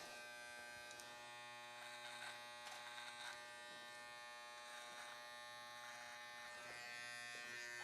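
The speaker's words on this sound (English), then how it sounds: "with your trimmer, never drag down, just make your line" An electric trimmer lines up a beard as part of a classic beard trim, giving a steady close buzz with a few brief changes in pitch as the blade meets the hair.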